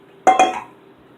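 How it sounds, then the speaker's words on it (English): Mixing batter in a bowl produces two quick, bright clinks of a utensil against the bowl, close and sharp, fading within a fraction of a second. "Mix that up really good."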